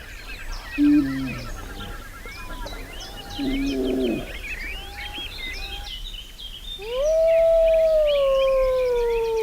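A black bear approaching, a wolf lets out a long alarm howl, rising then falling, after a few shorter calls, with birds chirping faintly in the background of an outdoor forest setting.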